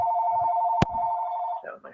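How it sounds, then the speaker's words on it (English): A phone rings with a steady electronic tone that holds for about a second and a half, with a brief click partway through, before a voice begins talking. "That was my phone."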